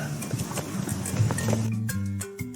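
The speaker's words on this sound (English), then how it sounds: "Horse." Horse hooves clip-clopping in a steady rhythm with a faint animal call mixed in, backed by a bright musical tone in a children's animal-sounds setting.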